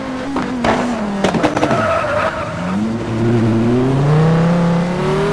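Locked brakes send a race car's tires into a sharp squealing skid at Suzuka in a racing game, followed by the engine revving back up with a rising whine, loud and close.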